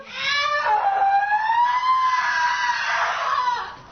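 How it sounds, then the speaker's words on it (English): A woman lets out one sustained, shrill scream lasting several seconds, wavering in pitch, heard fairly close and alone without other voices. "she begins to scream"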